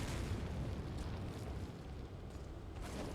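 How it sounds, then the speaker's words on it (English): Grenade explosions in the video game Resident Evil 4 form a continuous, loud, rumbling roar with heavy low-end booms and crackling debris that persist throughout. "Keep throwing those goddamn grenades."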